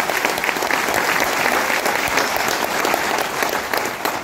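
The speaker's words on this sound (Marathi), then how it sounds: "एकदा जोरदार टाळ्या संजयसाठी वाजवा" Loud, dense applause from a crowd at a 75th birthday celebration for a former central minister, sustained and even from start to finish with no pauses.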